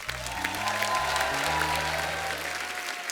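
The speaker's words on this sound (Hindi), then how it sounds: "चलो जी, जोरदार होनी चाहिए तालियां" Steady, loud applause from a TV comedy show's studio audience fills the whole stretch, with a low musical tone droning underneath.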